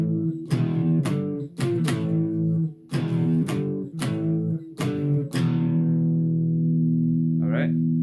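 A riff played on electric guitar with power chords: a series of sharp, loud chord stabs in the song's familiar stop-start rhythm, ending on a long ringing chord, with no one talking.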